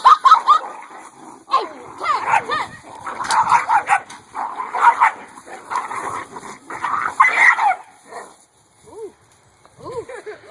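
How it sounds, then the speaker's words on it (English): A dog barks, yips and whines excitedly in close, repeated bursts outdoors near a fence, with a few softer whimpers as it tails off at the end. "That's my dog."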